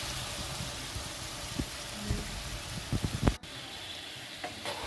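Chicken pieces fry in a pan before a spice mix is added, giving a soft, low sizzle with scattered stirring clicks and scrapes, a louder clatter near the middle, otherwise fairly quiet and without talk.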